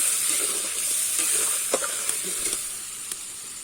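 Ground paste of onion, ginger, garlic, cumin and coriander frying with chicken, a steady hissing sizzle broken by a few sharp spatula scrapes and taps, close up and without speech.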